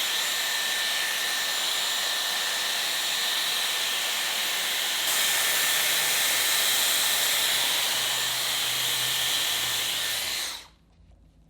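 A hair dryer on the hot setting blows steadily and loudly as hair is blow-dried with a round brush. The airy hiss swells slightly partway through and cuts off abruptly near the end.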